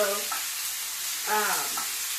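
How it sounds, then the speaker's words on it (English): Loud, steady sizzling of meat frying in a hot pan, a continuous hiss with faint voice fragments underneath. "you want to put it in the pan, and you see how it's sizzling hot"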